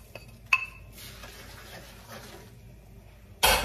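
Garlic, shrimp and chili oil ingredients are added to a pan and stirred, giving metallic clinks and scraping with a soft sizzle, sharp utensil knocks near the start and end.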